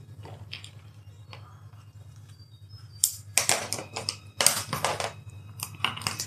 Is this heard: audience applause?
no